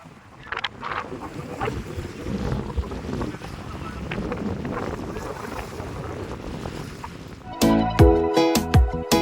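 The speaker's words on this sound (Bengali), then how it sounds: "উথাল পাথাল ঢেউ, এত হাওয়া" Strong wind roaring over rough, choppy waves on the water near Jamnagar, a steady loud rushing buffet, followed near the end by sharp clattering knocks close to the microphone.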